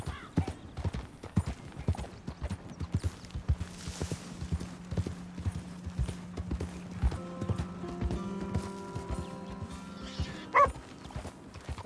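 Horse hooves clip-clop steadily in Red Dead Redemption II, a continuous rhythmic gallop near and clear, with a low steady tone and other game sounds underneath.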